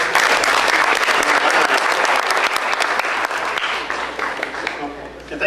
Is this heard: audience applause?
yes